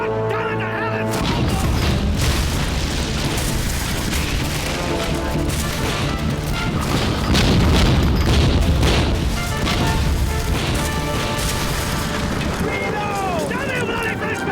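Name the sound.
ship cannons firing in a naval battle, TV drama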